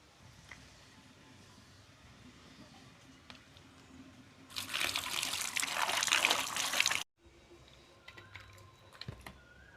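Singhi fish being rubbed and washed under running water; a brief burst of gushing, splashing water in the middle, set between quiet handling noises.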